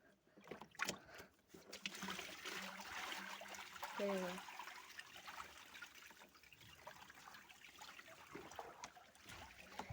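Water splashes and trickles as it is tipped out of a pet turtle's tub, a sloshing pour in the middle, with faint background noise and a voice.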